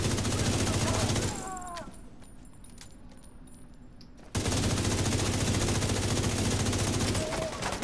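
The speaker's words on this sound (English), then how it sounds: "This gun shoots so fast. It's ridiculous. I believe it's the police M4." A police M4 in The Division 2 fires in loud, rapid automatic bursts, breaks off into a short quieter pause, then resumes a dense, sustained stream of shots.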